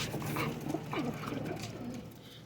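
Young pigeons in a home cage give soft, low cooing and burbling calls, close and continuous, with a faint background hum and no clear talking.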